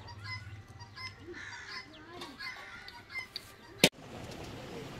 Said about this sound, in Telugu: ఇప్పుడు మొత్తుకునేది సీమ కోడి.